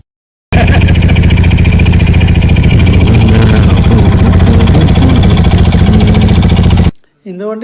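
A loud, close engine on a desert vehicle used for herding camels drones steadily with a rapid chugging pulse for several seconds, then cuts off abruptly before a voice speaks.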